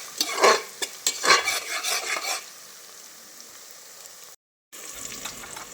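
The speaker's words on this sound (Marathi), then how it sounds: "तो पण मिक्स करून घेऊया तेलामध्ये." Garlic-ginger paste stirred into hot oil in a pan, sizzling and scraping loudly in bursts for about two seconds, then settling into a low steady frying hiss that briefly cuts out.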